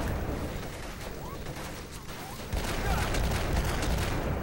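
Dense video-game gunfire from enemies in Black, a steady wash of shots and bursts that grows louder about halfway through, with no talking over it.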